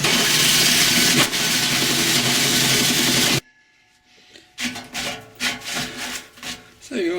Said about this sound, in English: what I'm going to be using to make the holes is this large metal hole saw